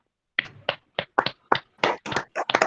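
A graduation audience claps for a named graduate in short bursts of applause with brief gaps, close and fairly loud, with no talk over it.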